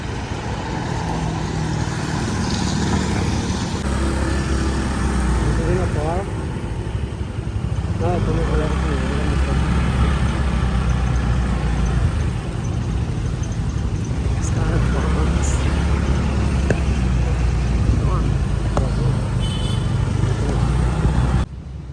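Rush hour street traffic in Bacolod City fills the background with a continuous drone of idling and passing cars, trucks and buses, steady and close, while people talk over it throughout.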